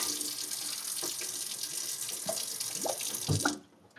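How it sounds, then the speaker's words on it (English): Cold water runs steadily from a sink tap to cool a molded Baskerville dog muzzle being reshaped, a continuous broadband splash with a few brief knocks and clinks near the end before the flow stops abruptly. "I'm just going to use my cold water and cool it in the position that I want it to be"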